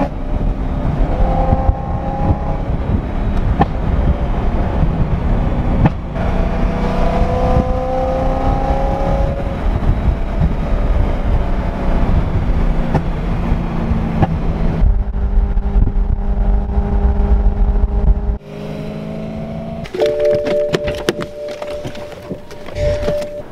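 A caged BMW E93 M3 convertible with a fireball tune drives past, its engine note rising and falling in loud sustained passes, then settling into a steadier hum near the end.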